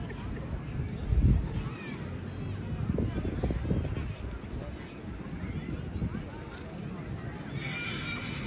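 Horses in a show ring at a horse show, with hooves clip-clopping under a loud neigh and whinnies, and an announcer and crowd voices talking throughout.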